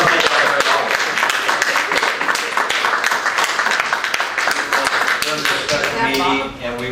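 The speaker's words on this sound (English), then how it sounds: "Can we applaud?" Applause at a Half Moon Bay city council special meeting: dense, steady clapping from many hands in a room, sustained for several seconds before thinning out at the end, with voices faintly mixed in.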